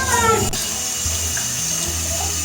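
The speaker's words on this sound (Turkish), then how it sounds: "Gördüğünüz gibi bir gözünden koyuyoruz. Diğer gözünden suyumuz akıyor." Water runs steadily out of a household radiator being rinsed through, a continuous splashing flow at close range with no talking.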